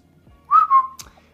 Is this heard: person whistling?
yes